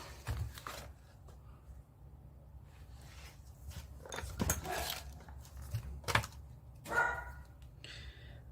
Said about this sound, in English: now the dog's gonna bark